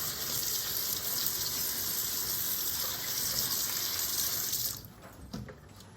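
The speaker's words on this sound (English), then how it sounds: "To cool them down, I just run some cold water on them." Cold tap water gushes steadily over mussels in a sink for several seconds, then shuts off, leaving a quiet clink or two.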